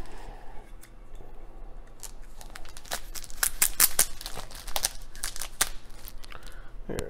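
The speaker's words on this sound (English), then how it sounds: "So I gotta cut it open." A knife slicing open the plastic wrap on a comic book pack, giving crisp cutting and crinkling rasps in irregular bursts, close and fairly quiet, with no one talking.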